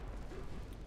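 A shell hit exploding on a warship in Ultimate Admiral Dreadnoughts, a dense, rumbling blast that fills the short moment with heavy low noise.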